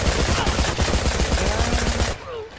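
Rapid automatic gunfire in the mobile shooter game Blitz Brigade, loud, continuous bursts for about two seconds before cutting off abruptly, leaving faint game sound.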